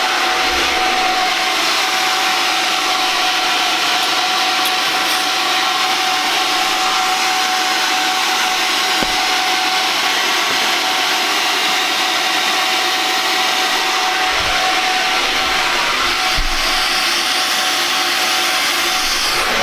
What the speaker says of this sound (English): So now I'm going to take the extractor and basically go over, get all that stuff out of there.